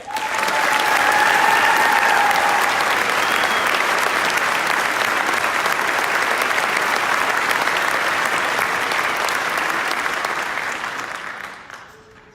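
Sustained, loud applause from a ceremony audience honoring police officers, dense and even for about ten seconds before tapering off at the end.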